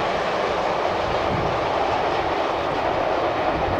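A CSX freight train hauling box cars rolls past close by, a steady, loud rumble of wheels and rattling wagons with faint clickety-clack, continuous for the whole stretch with no voices.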